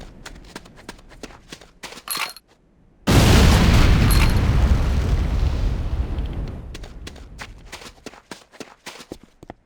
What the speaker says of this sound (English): move to a safe distance before detonating with your secondary fire